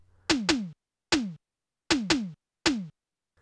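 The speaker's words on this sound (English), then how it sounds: "I'm using one of the percussion instruments with a synthetic drum sound like this." Synthetic electronic drum hits from a Casio SA-76 keyboard in a short pattern, some in quick pairs, each a sharp pitched thump with a falling tone, played alone.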